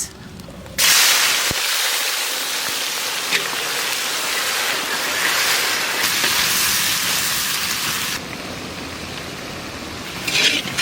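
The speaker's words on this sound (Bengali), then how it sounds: "তেল গরম হয়ে গেছে, দিয়ে দেবো পেঁয়াজ" Sliced onions hit hot oil seasoned with whole garam masala, bay leaf, coriander and cumin for a Bengali mutton curry, bursting into a loud, steady frying hiss that holds for several seconds, then eases and flares briefly again at the end.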